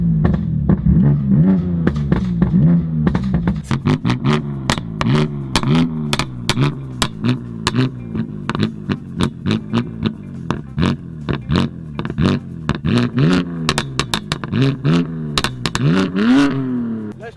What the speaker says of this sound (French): le bruit qu'elle fait la voiture, c'est incroyable